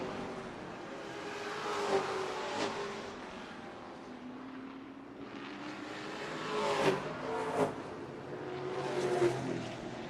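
Race cars roar around the oval at Redwood Acres Raceway on the final lap, engines rising and fading in repeated passes at moderate distance, without voices.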